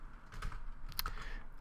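A short burst of typing on a computer keyboard during C++ DirectX programming, several quiet key clicks in quick succession with no talk.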